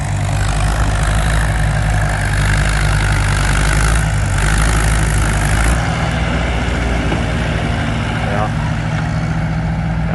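A WD 45 tractor engine idles steadily at an antique equipment plow day, a loud continuous low rumble running for the whole stretch with some faint outdoor activity behind it.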